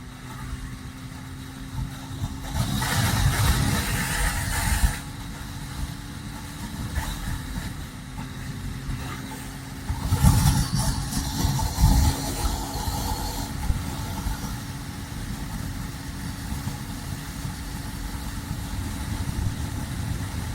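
An IZh Jupiter 5 motorcycle engine, liquid-cooled and carbureted, idles steadily throughout, with two louder swells of revving, one early and another around the middle, then settles back to a rough idle.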